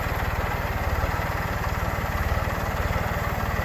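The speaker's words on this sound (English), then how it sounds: "Give it a little engine throttle." The engine of a demo machine runs steadily at idle with a fast, even mid-low chugging pulse, loud and close throughout.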